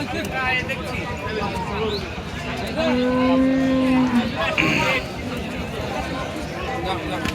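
Cattle at one of Bangladesh's largest cattle markets, the City Haat in Rajshahi, give a long, loud moo in the middle of the stretch. Busy crowd chatter surrounds it, and someone talks throughout.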